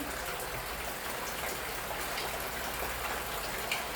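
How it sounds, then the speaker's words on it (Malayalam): Ghee sizzling and crackling in a hot appam pan, a steady dense hiss that holds evenly throughout at moderate volume with no voices. "നമുക്ക് നെയ്യ് ഒഴിക്കാം"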